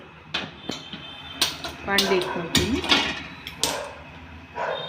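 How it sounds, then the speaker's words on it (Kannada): A metal kadai pan set onto a stove makes several sharp clanks and scrapes of metal on metal, close and fairly loud, with a resonant ring after a couple of the knocks. "ಈಗ ಬಾಣಲಿ ಇಟ್ಕೊಳ್ತೀನಿ."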